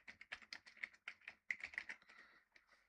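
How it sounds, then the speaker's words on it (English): A computer keyboard being typed on in short, quick bursts of crisp key clicks with brief pauses, close and quiet, with no talking. "So we're just going to type in video editing."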